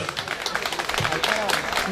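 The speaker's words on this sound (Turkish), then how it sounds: "onlar için büyük bir alkış istiyoruz." An audience claps at a Turkish gathering, a dense patter of many hands running throughout while someone talks over it on a microphone, calling for a big round of applause.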